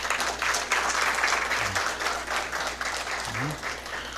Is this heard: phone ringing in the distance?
no